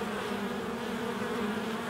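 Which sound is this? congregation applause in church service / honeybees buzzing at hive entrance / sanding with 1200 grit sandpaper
honeybees buzzing at hive entrance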